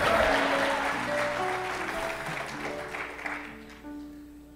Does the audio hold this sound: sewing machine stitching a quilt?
no